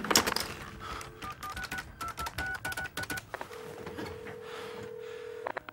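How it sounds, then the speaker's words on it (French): Telephone number dialed in the Max Payne video game, a quick string of clipped dial tones with clicks, then a long steady tone near the end, no talk. "il l'appelle donc au téléphone pour le prévenir"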